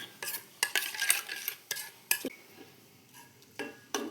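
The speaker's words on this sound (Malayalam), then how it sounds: "ഉപ്പ് ഇത്രയും ചേർത്ത് ചേർത്ത് ഇളക്കി വയ്ക്കുക" Salted masala for paneer biryani is stirred in a pan with a series of distinct scraping, clinking strokes against the metal, close but fairly soft, with only a faint sizzle and pauses between strokes.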